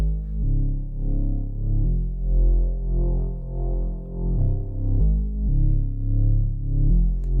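A deep bass track with a compressor switched on plays alone, with sustained low notes changing pitch every second or so in an even, controlled throb.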